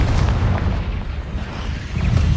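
A Confringo blast spell from Hogwarts Legacy erupts as a loud, booming explosion with a heavy low rumble that holds for a couple of seconds, swelling again near the end.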